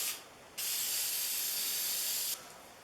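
Lacquer sprayed from a can onto the tote and knob of a Stanley No. 10 carriage maker's rabbet plane, a single close, steady hiss lasting about two seconds, alone.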